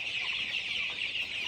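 A dense chorus of clucking from about a thousand chickens on a poultry farm, a steady close murmur of many birds with no talk over it.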